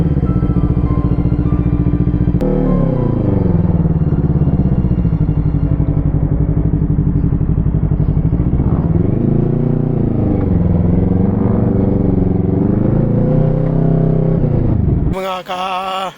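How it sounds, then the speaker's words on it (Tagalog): A motorcycle engine runs loud and close, revving up and down steadily, then briefly drops off near the end. "tunog ng motor."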